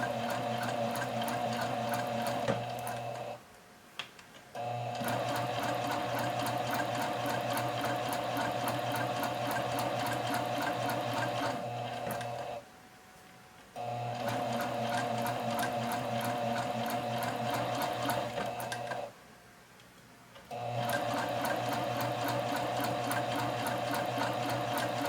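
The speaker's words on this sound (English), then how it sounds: "I'm going to make sure my fabric is folded as I guide it into the machine." Domestic sewing machine stitching folded fabric for a turned and stitched seam finish, a steady close whirring hum in long runs broken by two short pauses.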